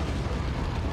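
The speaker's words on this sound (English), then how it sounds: "And we throw a nade." A grenade exploding in a video game, heard as a loud, dense, broadband roar that fills the whole second with no talking.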